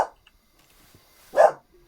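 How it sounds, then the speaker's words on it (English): A real dog indoors gives two short barks, one at the start and a louder one near the end, close by with quiet between them. "Barking at somebody outside."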